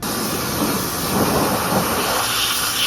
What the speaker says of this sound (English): first thing I'm going to do is rinse the wheels just like you would any other time with cleaning tires and wheels